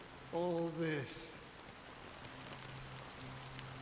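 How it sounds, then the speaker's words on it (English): Steady rain falls in the video game Honkai Star Rail, a soft continuous wash of patter throughout, with a voice sounding briefly near the start. "it's still raining"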